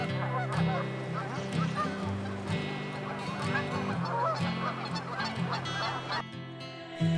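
Many geese in a bird colony along the Klamath River honk together in a loud, continuous clamor, a dense overlapping chorus of calls that cuts off near the end.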